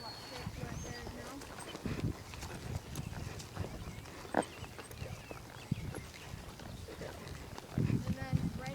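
A horse walking during barrel racing practice, with soft irregular hoof clops on arena ground heard up close, under someone talking and occasional louder thuds.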